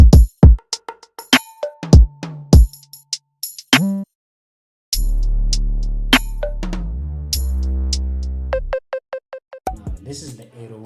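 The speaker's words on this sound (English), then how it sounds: "This is the 808 that carries the beat." A trap beat made in FL Studio, with a deep booming 808 bass gliding between pitches over crisp percussive hits, loud and up front, with a brief drop in the middle and no talking.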